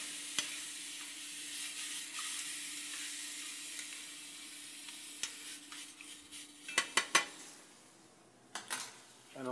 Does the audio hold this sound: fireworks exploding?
no